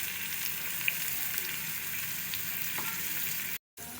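Ground spices such as turmeric, coriander, chili powder and cumin paste sizzle in hot oil in a pan while being stirred, a steady close crackling hiss with a few faint scrapes, ending in a brief silence.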